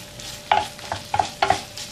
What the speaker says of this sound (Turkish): Şimdi bu şekilde birkaç dakika kavuracağım.